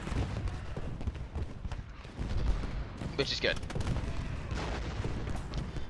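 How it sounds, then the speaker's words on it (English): Cannon fire from an American Civil War battle at Gettysburg in the strategy game Ultimate General Gettysburg, a dense run of booms and shots beneath someone talking briefly. "I still have a lot of cannons that are firing too"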